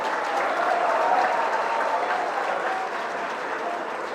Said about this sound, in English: So give a big applause to that student.